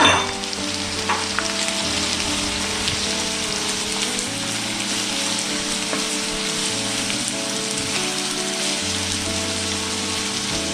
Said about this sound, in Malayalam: നമുക്ക് സവോള ഇട്ട് വറുത്തെടുക്കാം.